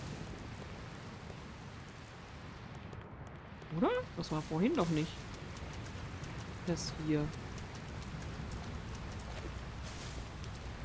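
Steady rain hiss in the video game Dragon Quest Builders 2 fills the scene throughout, a dense even patter, with brief speech breaking in over it twice.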